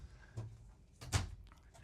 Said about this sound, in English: 3 drawers that open up.